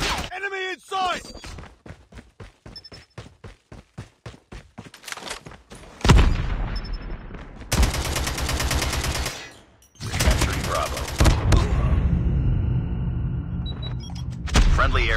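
Rapid AK-47 automatic fire in the mobile shooter Call of Duty Mobile, ranked control mode: a fast train of evenly spaced loud shots, then dense bursts of gunfire and explosive blasts, with game announcer lines and effects mixed in.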